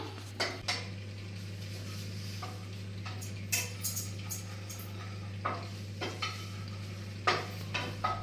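Curry leaves stirred and dry-roasted in a pan for idli podi, with scattered scraping clinks of a spoon against metal and a soft sizzle beneath a steady low hum.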